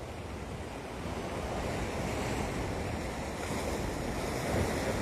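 Ocean waves breaking on a Hawaii shore near Waikiki, a continuous surf roar with wind buffeting the microphone, swelling slightly toward the end, no voices.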